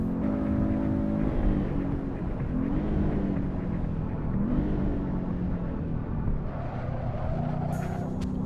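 Porsche 914 in a racing video game under hard braking and a brief drift, its engine tone rumbling and shifting steadily and loud throughout with no pause, with the drone rising and falling as the car slows.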